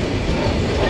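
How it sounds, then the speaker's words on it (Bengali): A stone-carrying freight train arriving at Bhanga railway station, heard as a loud, close, continuous rumble of wagons and wheels over the rails, filling the brief moment without pause. "এলো পাথরবাহী ট্রেন।"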